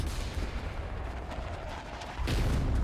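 Gunfire from soldiers in a NieR drama battle scene: dense, continuous rumbling volleys of shots and artillery-like booms, loud and close, with no voices over them.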